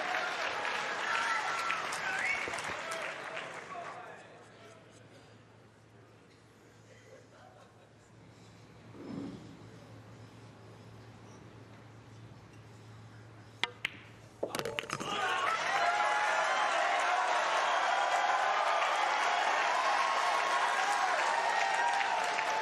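Loud crowd applause bursts out at a three-cushion billiards world championship match, fades under a quiet stretch where a commentator speaks, then returns just as loudly to the end.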